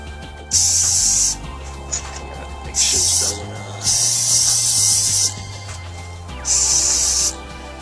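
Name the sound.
spray painting a Sega Dreamcast console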